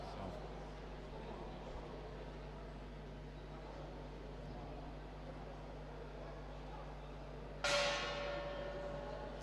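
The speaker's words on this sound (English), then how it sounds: "And there's the bell." A single boxing-ring bell rings sharply near the end to close a chess round at a youth chessboxing world championship, its tone ringing on and decaying over steady hall noise.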